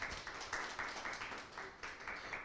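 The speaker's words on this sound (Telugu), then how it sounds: "హల్లెలూయా. చప్పట్లు కొడదాం సార్ గట్టిగా." Church congregation clapping hands together in a steady, repeated rhythm, a moderately distant crowd sound filling the room with no voices over it.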